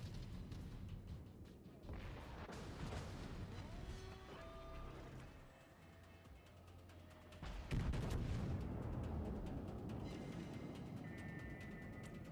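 Heavy battleship gun salvos from the Großer Kurfürst in World of Warships, with booming blasts over a rumbling game soundscape and a stronger broadband crack near the middle, loud and close.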